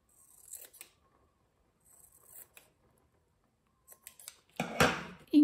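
Scissors snip through printed paper words in a few quiet, separated bursts of crisp cutting, ending with a louder rustle of paper being handled close by, no talk.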